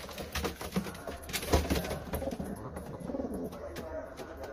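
Dusty-beaked, small-billed pigeons coo in low, repeated soft calls close by, with faint chatter and rustling around them.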